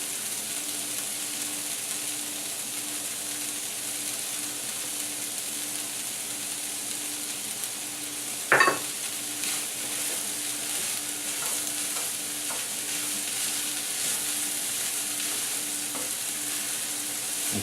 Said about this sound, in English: And just stir that up to make sure that it's all incorporated.